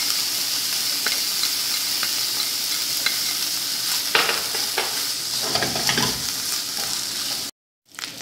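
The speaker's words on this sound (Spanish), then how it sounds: "Y voy a agregar el tocino. Que se guise aquí el tocino." Bacon fries in a little oil in a pot, producing a loud, steady sizzle with scattered pops and occasional stirring scrapes, cutting to silence briefly near the end.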